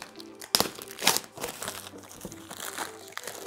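Packaging of a new Synco T3 microphone being opened, with several crisp crinkling and crunching bursts of cardboard and plastic, two sharp ones early, then softer rustling handling close by, no talk.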